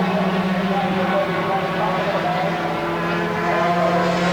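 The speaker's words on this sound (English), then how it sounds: "this secures it very nicely for Jeff Sale out here on his victory lap" A 250cc racing motorcycle on a victory lap at Surfers Paradise International Raceway, its engine a continuous buzzing drone that shifts in pitch, with a commentator talking over it.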